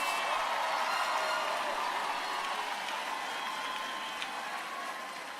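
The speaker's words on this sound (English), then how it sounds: "Give them a big round of applause." A large crowd applauds graduates at the Xavier University of Louisiana 2023 commencement, with a dense, even wash of clapping that carries on steadily and eases slightly toward the end.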